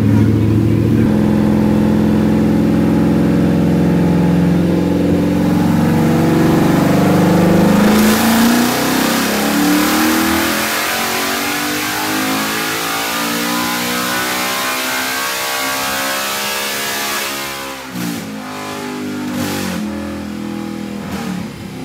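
A 2020 Ford Mustang engine with a Cobra Jet intake and cams revs hard on a dyno, climbing steadily in pitch to a loud high-rpm roar, then the throttle drops and it winds down.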